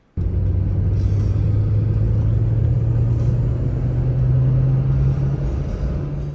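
A 1998 Toyota car, recently fixed for heavy oil burning, drives along with a steady low engine drone and road rumble that starts abruptly and holds loud and constant, with no talking.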